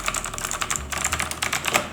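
Fingers type on a Rexus Legionare MX10 mechanical gaming keyboard, giving a close, continuous run of crisp key clicks in uneven bursts with no talking.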